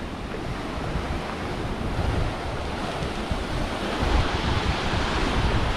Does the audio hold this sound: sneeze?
no